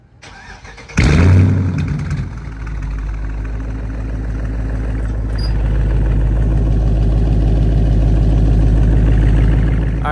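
A Dodge Charger R/T sedan's 5.7-liter V8 starts with a loud cranking burst and rev flare, then settles into a steady, deep, rumbling idle that grows slightly louder, close by with no talk.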